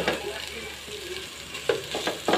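Miso and softened tomatoes sautéing in a pan for salmon-head sinigang, with a steady low sizzle and a few sharper stirring scrapes toward the end, no voices.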